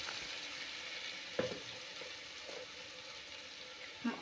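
Onions cooking in oil in a pan for chana masala give a steady, faint frying hiss, with a few brief soft spoon clinks scattered through it. No voices.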